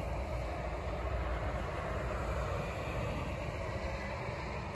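A C series train pulls out of Clarkson Station during rail replacement testing, a steady low rumble and rolling hum that stays even and quiet-sounding, heard from nearby without talk.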